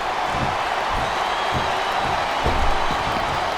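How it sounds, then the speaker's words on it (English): Arena crowd in the WWE SmackDown vs. RAW 2007 wrestling video game, a steady, loud, dense roar of many voices with faint rhythmic pulses running through it and no clear talk on top. "Wow, listen to that chant, Taz."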